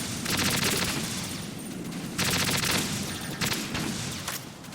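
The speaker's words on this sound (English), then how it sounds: "I'm just gonna shoot him from right there." Gunfire in the Metal Gear Solid 2 video game, with loud, dense, rapid bursts of shots that run almost continuously and pause only briefly, with no talking.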